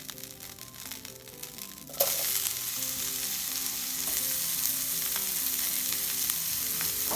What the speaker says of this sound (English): So now we're just going to add a bit of olive oil, and then we're going to start off with our onions.